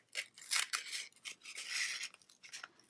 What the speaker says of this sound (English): I'm going to cut away the extra bits